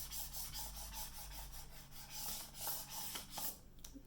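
A scraper rubs and rasps across sticky vinyl being smoothed onto clear furniture cover vinyl, a faint, close series of repeated short strokes in a steady back-and-forth rhythm, with no one talking.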